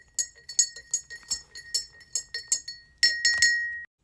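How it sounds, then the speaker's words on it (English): A tiny spoon clinks rapidly against the inside of a glass jar while stirring in drops of colour, making bright repeated ringing taps with a short pause and a final lingering ring. "Now we can give that a stir with our tiny spoon."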